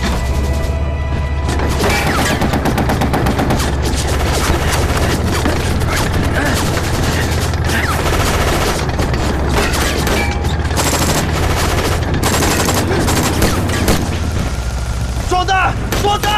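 Cannon fire and gunfire in a war film battle, a dense continuous barrage of booms and volleys with crashes and shouting voices mixed throughout, loud and unrelenting.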